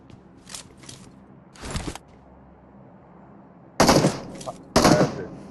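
Gunfire in the video game PUBG on the Miramar map: a few short bursts of shots, then a quiet stretch, then two loud, close bursts near the end, with no talk over them.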